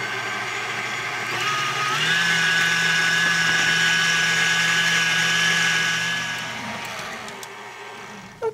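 An electric mixer beats egg whites with cream of tartar toward soft peaks, a steady whirring motor whine that rises in speed, holds, and then winds down, with no talking.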